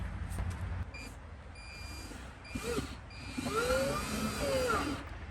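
A power drill drives screws into an RV dryer vent during a post-flood repair, giving short whirring bursts with a rising motor whine near the end, fairly quiet against room noise.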